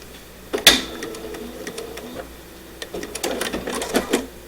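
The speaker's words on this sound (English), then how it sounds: "going to back stitch a little bit" A home sewing machine fitted with a D foot and dual feed back-stitching on a farmhouse chick shelf-sitter craft, a sharp click followed by short, soft stitching runs and faint mechanical whirring.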